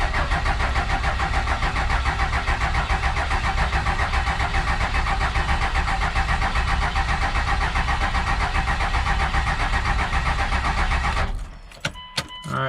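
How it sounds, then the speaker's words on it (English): A 24-valve Cummins diesel in a second-generation dually pickup cranks over without catching, a loud, even starter churn lasting about eleven seconds before it cuts off, followed by a couple of sharp clicks. "So just cranked it over one more time"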